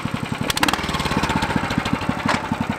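Iron Horse skid steer forestry log machine with its small engine running close by, a steady rapid chugging pulse with a brief metallic clatter of higher noise over it.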